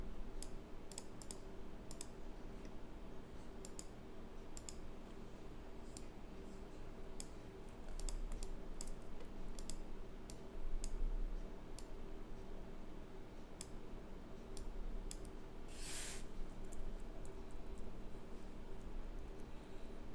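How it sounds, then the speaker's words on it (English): Computer arrow keys are pressed in a steady run of light, quiet clicks, some in quick clusters, against a soft background hum, with no talking. "I'm using the arrow keys to manipulate the layer."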